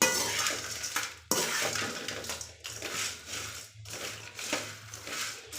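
Spices dry-roasting together in a pan, stirred with a spoon: repeated scraping and rustling strokes with light metallic clinks, moderately close, with brief pauses between strokes.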